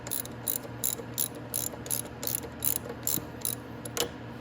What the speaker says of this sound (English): loosen these 14mm bolts